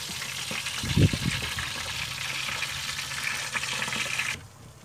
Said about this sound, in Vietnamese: Rồi nước sôi bạn ơi, rồi bỏ cá vô.